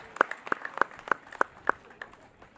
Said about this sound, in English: I want you to help me to recognize them by just clapping for them.